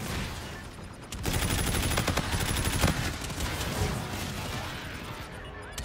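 An aircraft makes a strafing gun run in Call of Duty: Infinite Warfare, a loud, sustained roar of rapid cannon fire with dense crackling impacts that keeps going for several seconds after a quieter start.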